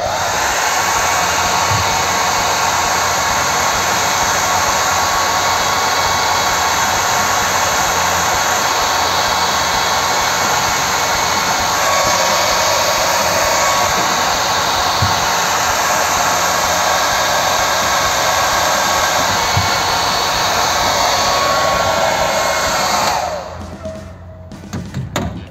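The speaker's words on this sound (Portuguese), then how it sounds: "Então eu vou pegar e vou aplicar o secador lá agora, ó." A hair dryer blows steadily at close range to dry water inside a door-open alarm unit, a loud constant whoosh that cuts off near the end.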